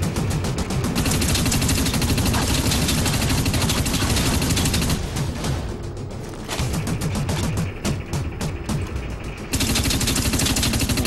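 Heavy large-blaster fire in the shooter game Dust 514, loud rapid bursts of shots that stop briefly partway through and then resume at full force, with no talk.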